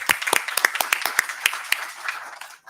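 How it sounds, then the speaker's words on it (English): Scattered applause at a school board meeting honoring a staff member, a modest group of claps with sharp irregular hits that thin out and fade by the end. "have a big round of applause for Julie Brandon"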